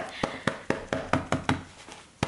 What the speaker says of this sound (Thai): เคาะออกมาแรง ๆ หน่อยคือบอกว่าจะมีน้ำแบบ เยอะมากที่อยู่ข้างในอะค่ะ